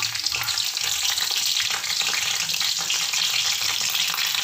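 Dried chillies, mustard seeds and whole cumin sizzle in hot oil in a pan, a dense steady crackle and hiss that runs unbroken throughout, close by with no voices.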